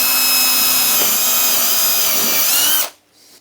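A smaller power drill bores a test hole in pine for a folding camping table, a loud steady whine held close for nearly three seconds before it stops abruptly, leaving faint room noise.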